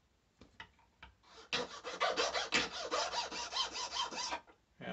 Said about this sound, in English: I'm just going to take it on a file, and I'm going to hold the reed